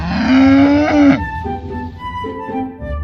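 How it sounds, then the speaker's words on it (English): A black and white cow gives a single loud, close moo that bends upward and then trails off into lower, fading grunts, with no voices over it. "Cow mooing."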